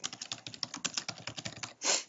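Fingers type quickly on a computer keyboard while entering text into an Excel spreadsheet, a rapid, even patter of close keystrokes ending in a slightly heavier press, with no voices.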